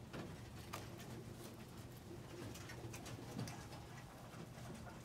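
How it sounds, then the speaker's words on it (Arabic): Pigeons coo softly in a loft at night in cold weather, low repeated calls with faint fluttering and rustling around them, quiet and close, with no talking. "هذا الطير اهداء لابو عمر وقروبه"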